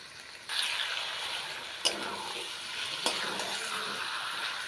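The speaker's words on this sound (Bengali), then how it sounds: "মশলাটা ভালোভাবে ভাজা হয়ে তেলটা ছেড়ে আসলে দিয়ে দেবো ম্যারিনেট করা চিকেন।" Marinated chicken fries in an oil-released spice paste, a steady sizzle that starts abruptly after a quiet moment and holds moderately loud, with two brief clatters of stirring along the way.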